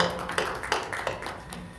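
Scattered clapping from attendees at a church committee business meeting: a few uneven bursts of hand claps, moderately close, with no talking over them.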